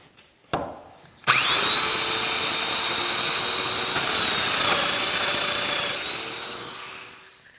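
A domino joiner cuts mortises in wooden blocks. After a brief knock, the motor spins up to a loud, high, steady whine and holds it for several seconds, dipping slightly as the cutter plunges, then winds down, close up.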